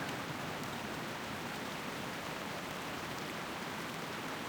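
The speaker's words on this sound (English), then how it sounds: "This rain is loud as shit." Steady, loud rain hisses without a break in a game world, a dense broadband wash that fills the whole stretch with no voices.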